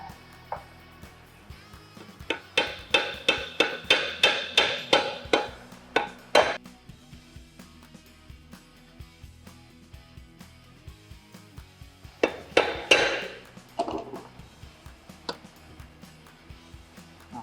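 A hammer taps on metal during motorcycle gearbox assembly, with rapid bursts of sharp close strikes separated by a quieter stretch of faint clinks.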